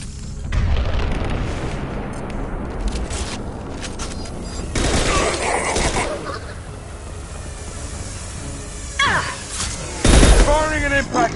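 Weapons fire in a Mass Effect 2 battle: a loud rattling fusillade of shots and booms, with heavier blasts near the middle and end, mixed with sci-fi effects and game voices talking.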